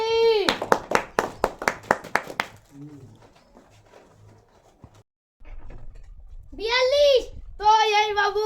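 A group of children clap in a quick, sharp round of applause at a prize-giving number-guessing game, then fall quiet before a voice and other kids chatter nearby.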